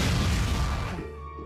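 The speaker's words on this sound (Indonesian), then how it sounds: "Tyler harus tewas akibat ledakan bom yang dia pasang karena kode di bom tersebut telah error." A bomb blows up inside a tunnel in an action film, a loud, deep, broad roaring blast that fills the moment and then tails off quickly, with no voices.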